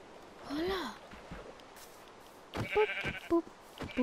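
Sheep in a blocky survival video game bleating in a few short cries, one early and several more clustered near the end, with a person talking in between.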